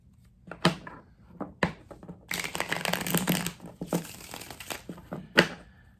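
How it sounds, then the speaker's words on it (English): Tarot cards are shuffled up close in several crisp bursts, with riffling and snapping broken by short pauses, no voices. "Let me shuffle these cards and we'll start."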